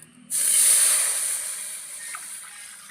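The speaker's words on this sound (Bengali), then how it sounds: "এবার এই কড়াইতে জলটা দিয়ে দেবো জল গরম হওয়ার জন্য" Water poured into a hot wok bursts into a loud, steady hiss of steam that starts abruptly, then slowly fades while still sizzling, close up.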